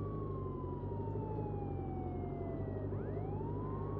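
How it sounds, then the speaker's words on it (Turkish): A police car siren in the Contraband Police video game wails with sliding, falling-then-rising tones over a steady low engine rumble, loud and continuous throughout. "Sirenimizi de basalım."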